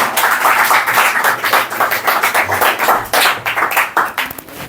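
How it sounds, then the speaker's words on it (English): Audience members at a talk clap together in a loud, close, rhythmic burst of applause that sustains for several seconds, with no speech over it. "Please, clap"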